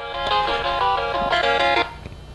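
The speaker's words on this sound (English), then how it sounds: "I'm getting a phone call." A Samsung Stratosphere mobile phone plays its incoming-call ringtone, a bright melodic sequence of tones lasting under two seconds, close and fairly loud, with no voices.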